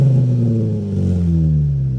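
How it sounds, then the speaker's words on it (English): A modified first car cold-starting at night, its loud engine catching and revving with a deep, rising then settling roar, close and alone. "I'll turn on the car from a cold start."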